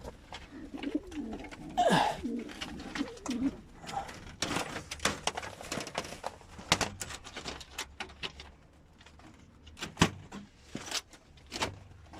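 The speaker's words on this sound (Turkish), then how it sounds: "Bakın erkek gibi ötüyor bizim kuşumuz." Soft coos and calls from a pet Çakmaklı bird come and go against quiet rustling and scattered clicks and knocks, fairly close.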